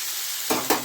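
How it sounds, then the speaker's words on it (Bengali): Potatoes fry in a pan with a steady hiss, and two quick scraping stirs come near the end of the brief moment. "আলু ভাজা বসিয়েছি, এটা হবে,"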